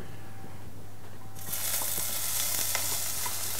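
Onions hit hot olive oil in a pan and start sizzling suddenly about halfway through, a bright steady crackle after a quiet start with a faint low hum underneath, close and moderately loud.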